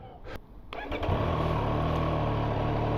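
A 2023 Triumph Street Triple RS motorcycle engine cranks with a couple of short starter bursts, then catches and settles into a loud, steady, close idle.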